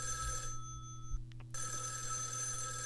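A telephone rings in a studio during a live show: bright, steady electronic tones sound close and clear, break off briefly, then resume over a low background hum, with no talking.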